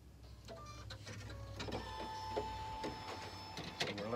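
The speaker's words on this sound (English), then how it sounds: "So we're letting the machine boot up." A Baby Lock/Brother embroidery machine boots up after a restart, giving a steady mechanical whir and hum with tonal beeps and clicks throughout, moderately loud and close with no talking.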